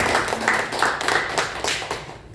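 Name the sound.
congregation clapping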